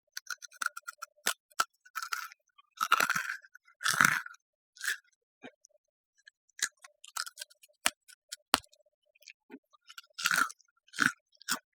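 Crunchy rice cracker bitten and chewed up close in quiet, with sharp crisp crunches arriving in irregular bursts separated by short silences.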